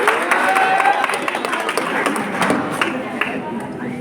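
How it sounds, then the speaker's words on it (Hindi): An audience at a formal speech event gives a round of loud, hearty clapping, with a voice and crowd murmur mixed in underneath. "एक बार जोरदार तालियां"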